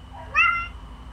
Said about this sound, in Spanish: Mi gatita lo saluda